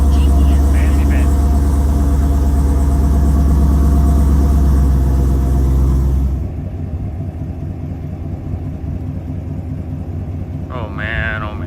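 A 2016-or-later Chevrolet Camaro engine runs with a deep, loud rumble that drops to a steadier, quieter idle partway through, with a brief voice near the end.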